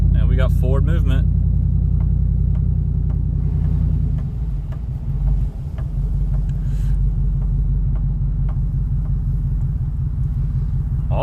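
A Cadillac Escalade engine runs with its muffler disconnected, giving a loud, steady low rumble that holds throughout, with a brief shift in tone midway and a voice speaking over it early on.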